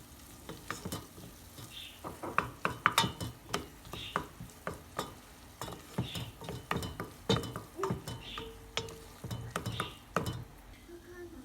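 A spoon stirs tomato paste into washed bulgur, rice and lentils for ezogelin soup, giving repeated scraping and clinking strokes against the pot in an uneven rhythm over a faint sizzle, close and fairly quiet.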